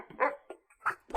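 A dog gives three short, sharp barks in quick succession, close and clear, with brief quiet gaps between them and no one talking.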